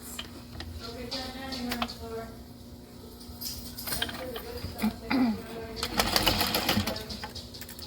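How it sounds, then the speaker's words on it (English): A sewing machine stitches a 3/8-inch seam across the bottom of a handbag, its motor whirring close and loud in bursts with clicks between runs and a voice now and then. "we're going to sew across the bottom with a 3/8 of an inch seam allowance"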